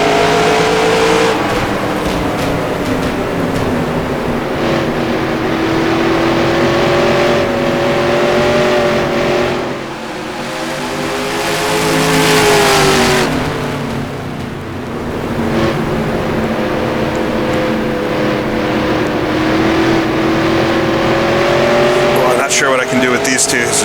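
Vintage 1960s-style NASCAR race trucks in NASCAR Racing 2003 roar continuously, engine notes rising and falling as they rev through the pack, with someone commentating over the sustained loud drone.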